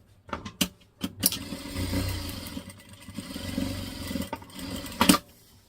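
Sewing machine stitching a fabric storage box, running in a couple of steady whirring bursts with clicks and handling clatter between, close and fairly quiet.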